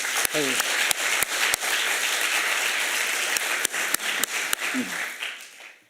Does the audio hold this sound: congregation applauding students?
yes